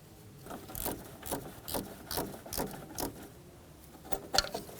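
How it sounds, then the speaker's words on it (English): A 10mm socket ratchet tightens the exhaust camshaft position sensor bolt on a 2007-2017 Jeep Patriot, giving a close, quiet run of about ten evenly spaced clicking strokes with no talk. "Using that 10mm socket, we're going to snug it up"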